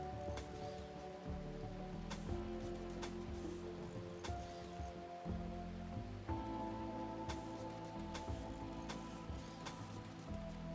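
Rain falls in the colony survival game RimWorld, a soft continuous patter beneath steady, stepped tonal game sounds, with no voices.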